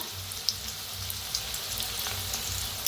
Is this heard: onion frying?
yes